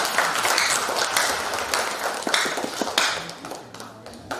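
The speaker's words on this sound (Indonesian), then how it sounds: "Tepuk tangan dong" School staff applaud warmly after hearing of an A accreditation result, a loud, dense wash of many hands clapping together that fades slightly toward the end.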